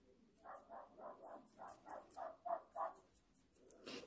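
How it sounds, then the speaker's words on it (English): Indoor dog barking in a steady run of about ten quick, evenly spaced barks, faint and somewhat distant, with no talk. "he's probably barking because our cats are probably in the window teasing him"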